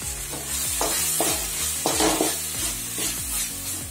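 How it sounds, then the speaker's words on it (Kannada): Onion frying in oil in a pan, a steady sizzle broken by repeated scraping strokes of a spoon stirring it, close and fairly loud, with no voices. "ಈರುಳ್ಳಿ ಹಾಕಿ ಸ್ವಲ್ಪ ಫ್ರೈ ಆದರೆ ಸಾಕು"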